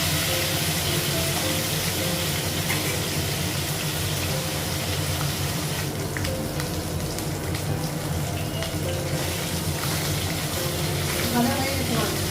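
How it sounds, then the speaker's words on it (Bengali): Fish fries in hot oil in a home kitchen, a continuous close hiss and crackle that runs steadily throughout, with a voice speaking now and then over it. "ভাজা হয়ে গেছে মাছ।"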